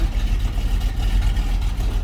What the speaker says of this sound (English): a little rumble coming out of that 390, but nothing too crazy. Good sounding engine.